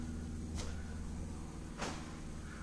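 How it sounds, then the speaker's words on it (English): A 2011-2016 Kia Sportage unlocks by remote start, giving two soft, brief actuator clunks about a second apart, faint against a low steady background hum. "Our doors will unlock."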